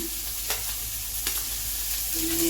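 Sweet corn kernels with green chilies fry in a hot pan with a steady sizzling hiss, broken by a couple of sharp stirring scrapes and a brighter sizzle burst near the end.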